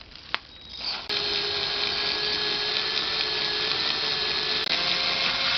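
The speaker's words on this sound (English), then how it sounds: "the electric drill is a lot faster. And I'm going to place it right over that air hole." Electric drill punching through the air hole of a Canon PG-243 black ink cartridge, a sharp click then a close, steady high whine running several seconds.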